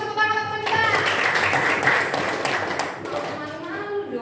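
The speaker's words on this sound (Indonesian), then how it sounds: "Tepuk tangan teman kita." Schoolchildren in a high-school physics class clap for a classmate, a short burst of scattered clapping mixed with voices and a teacher speaking over it.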